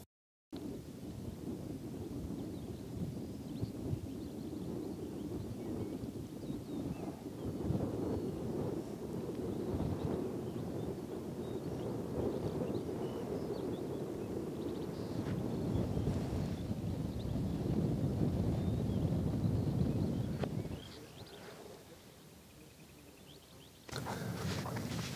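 Steady wind gusting over a fine-sand dune on the Danish coast, a continuous low rumbling buffet with rises and falls, loud and close, easing near the end.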